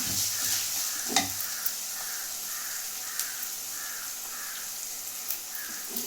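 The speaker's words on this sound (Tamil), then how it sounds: "கருவேப்பிலை போட்டுக்கலாம் நல்லா வதக்கி விட்டுக்கலாம்" Curry leaves sauté in a pan with a steady, even sizzle that fills the whole stretch, broken by a few sharp clicks of a spoon against the pan; no one speaks.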